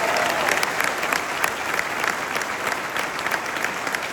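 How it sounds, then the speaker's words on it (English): An audience at a conference opening keynote applauds people who came up on stage, producing loud, dense, sustained clapping that stays fairly even for the whole stretch. "Let's give them a huge round of applause for taking a chance."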